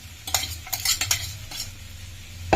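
Spices and crumbled chapati are stirred in a pan for chapati chivda, producing several close, sharp scraping strokes of a spoon against metal in an uneven rhythm over a low sizzle, with no talking.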